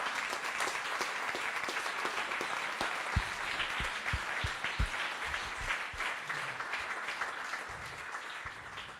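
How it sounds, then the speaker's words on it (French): A room of people at a poetry workshop applauding one another, a dense, sustained patter of clapping at moderate distance with a few louder nearby claps partway through. "est-ce qu'on peut s'applaudir"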